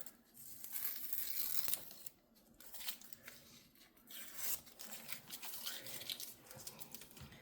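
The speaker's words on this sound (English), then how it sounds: "I'm gonna pull our washi tapes off." Washi tape is peeled off the edges of a dried watercolor painting, heard as quiet, close, intermittent tearing and crinkling strips with brief pauses between pulls.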